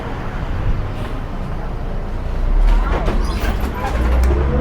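Air-conditioned city bus on line 22 pulling in, a loud, close engine rumble that swells as it arrives over steady street traffic noise.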